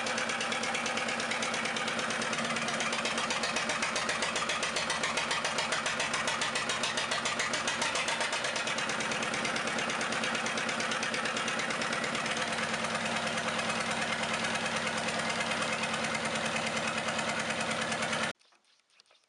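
A vintage engine runs steadily at a rough idle with dense mechanical clatter and vibration, loud and close, continuing for most of the clip before cutting off abruptly near the end.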